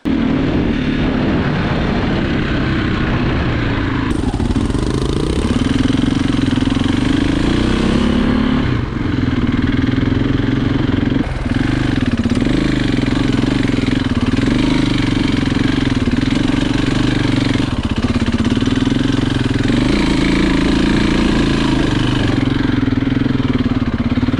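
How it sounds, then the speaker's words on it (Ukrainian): Motorbike engine running loudly and close on a rocky mountain trail, with a rough mid-pitched drone that rises and falls as the throttle is worked, plus clattering over the whole stretch. "Зараз я десь припру моторку та й попробую тобі допомогти."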